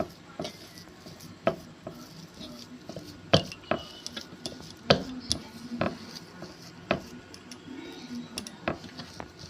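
Mashed potato being mixed by hand with salt, cumin, coriander and chili powder for aloo tikki, heard as soft squishing with scattered sharp clicks and taps of a bowl at close range.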